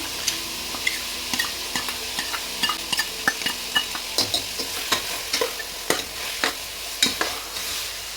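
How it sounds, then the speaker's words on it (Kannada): Potato and washed toor dal fry in oil for a ridge gourd sambar. A steady sizzle runs under frequent rhythmic scrapes and clacks of a spatula stirring the pan, with no talk. "ಈ ಥರ ಸ್ವಲ್ಪ ಹೊತ್ತು ಎಣ್ಣೆಲಿ ಹುರ್ಕೋಬೇಕು"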